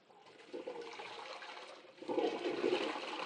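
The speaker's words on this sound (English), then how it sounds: "we'll just flush the chain gently." A chain-pull toilet flushed gently, water rushing and gurgling steadily into the bowl, then surging louder as the flow builds, close by and with no voices.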